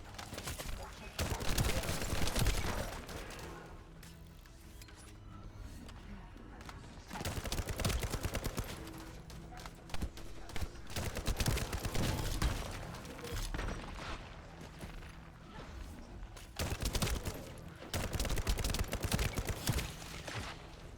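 Rifle gunfire in the sci-fi shooter video game The First Descendant, loud bursts of rapid automatic fire recurring in several volleys over game music and effects.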